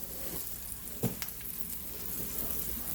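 Ramen noodles, shrimp and vegetables stir-fried in a pan, a steady low sizzle with soft scraping as everything is tossed together, plus one brief louder knock near the middle.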